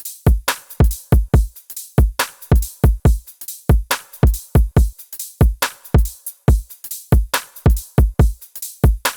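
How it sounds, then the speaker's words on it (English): A UK bass drum loop plays alone at 140 BPM: punchy kicks and sharp snares and hats in a tight, syncopated groove, loud and dry with no other instruments. "The drums by themselves sound like this."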